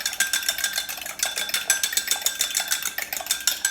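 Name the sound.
egg whisked with a fork in a measuring jug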